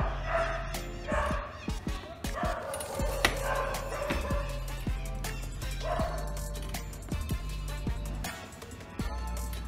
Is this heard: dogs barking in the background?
yes